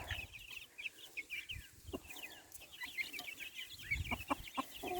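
Farmyard chickens cluck and chatter continuously near a coop, with mixed crossbreed roosters and a few hens, plus occasional scratching and thumps close by.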